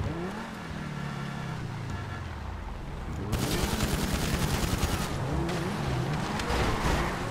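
Rapid bursts of AP pistol fire in GTA 5 Online crackle out in quick succession during the second half, layered over a steady car engine drone, with no talking.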